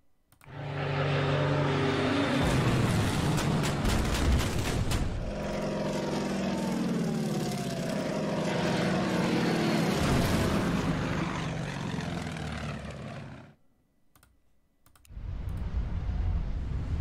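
Propeller engines of bombers in the Coral Sea war game, a sustained loud droning with some clicking, fading briefly near the end before the engine sound returns.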